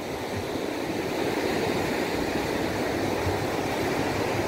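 Ocean waves wash onto the beach at Canoa Quebrada with a steady, full roar of surf and breeze, a dense constant wash that does not let up and has no voices over it.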